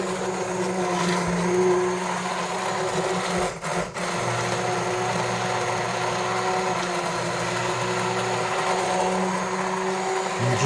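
A stick blender whirs continuously in a pot of hot boiling soup, a steady buzzing motor hum with a brief dip partway through, near and without talking.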